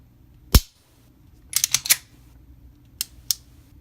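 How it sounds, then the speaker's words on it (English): Trigger of a Ruger LCP Custom pistol clicking as it resets: one sharp near click, then a quick burst of about four clicks, and two more spaced clicks later, all against a quiet background. "I'm trying to be quiet while it actually clicks."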